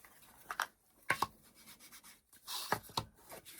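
Short dry rubbing strokes as distressing ink is worked around the edge of a wooden Christmas craft, a few quiet scrubbing bursts separated by pauses, close and soft with no talking.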